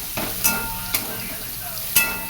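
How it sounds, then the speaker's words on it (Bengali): Shrimp and chopped onion fry with five-spice in a hot pan, a steady close sizzle broken by a few sharp scraping strokes of a spatula as the mix is stirred. "চিংড়ি মাছটাও দিয়ে দিয়েছি দিয়ে একসঙ্গে ভাজা করে নিচ্ছি আর ওপর থেকে একটু পেঁয়াজ দিয়ে দিয়েছি দিয়ে এই যে নাড়াচাড়া করে নেব"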